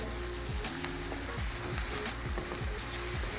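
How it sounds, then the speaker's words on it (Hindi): Finely chopped tomatoes hit hot oil and masala in a pan over medium flame, raising a steady close sizzle with a few stirring scrapes and no talking. "अब यहाँ पे मैं इसमें टमाटर डालती हूँ"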